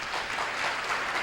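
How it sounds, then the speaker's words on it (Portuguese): A church congregation claps together to praise God after a healing testimony: dense, continuous applause at a moderate distance, evenly sustained for the whole short stretch with no voices standing out. "Podem aplaudir a Deus agora"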